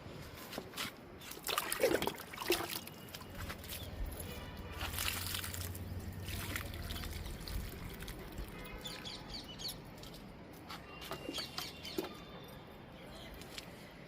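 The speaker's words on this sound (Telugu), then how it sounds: "ఇంకా వాటర్ ఇచ్చేద్దాము" Water trickles and splashes steadily as it is poured onto a newly repotted adenium plant in a new bucket of fresh soil, with birds chirping faintly in the background.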